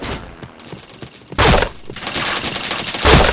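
Gunfire in the Point Blank shooter game, a quiet crackle of shots followed by louder sharp bursts of rapid automatic fire up close.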